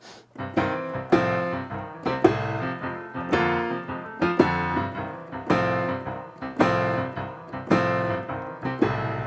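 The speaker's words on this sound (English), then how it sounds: "my favorite 2-hand shuffle pattern" Solo piano plays a two-handed blues shuffle, a steady bouncing left-hand groove under repeated right-hand chords, clear and close.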